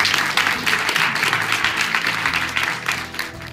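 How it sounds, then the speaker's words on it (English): An audience of an integrative nutrition community event in Toronto applauds, a dense continuous patter of many hands clapping at moderate distance, steady throughout with faint crowd murmur. "a big applause for all of you"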